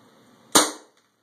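Single sharp report from an airsoft blowback pistol rated around 450 FPS, loud and close, with a short decaying tail and a faint mechanical click afterward.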